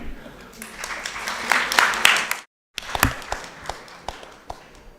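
An audience at an alumni meet claps in scattered, uneven bursts that briefly cut to silence midway, then resume as a lighter patter; a voice is also present.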